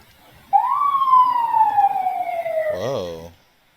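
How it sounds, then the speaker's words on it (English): An emergency siren from an ambulance or fire truck passing in a game gives one loud, smooth wail that rises and then slowly falls. A short voiced sound closes it before it cuts off. "There was just an ambulance that went, or a fire truck that went by."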